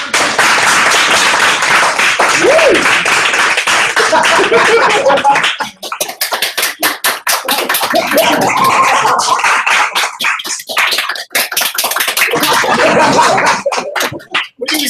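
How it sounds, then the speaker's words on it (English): An audience after a talk claps in loud applause, a dense wash of hands at first that thins into scattered, sharper individual claps, close to the listener. "Can we please have a round of applause for"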